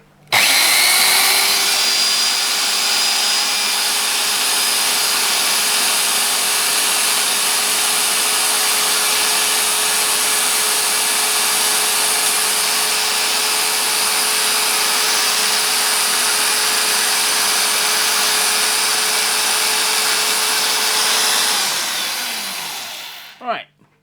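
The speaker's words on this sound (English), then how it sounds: "being driven from an old Black & Decker electric drill via a flexible drive, and we're just going to center drill it to start with." An old Black & Decker electric drill driving a flexible shaft whirs steadily while center drilling a home-cast metal pulley, a continuous loud motor drone with a high whine that runs almost the whole time before spinning down at the end.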